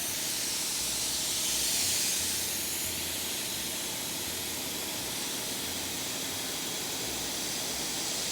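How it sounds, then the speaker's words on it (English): Spray gun laying color paint onto a C5 Corvette body panel, a steady close hiss of atomized paint that runs unbroken and evenly loud throughout, swelling slightly early on, with no talking. "We can go ahead and start painting the entire panel."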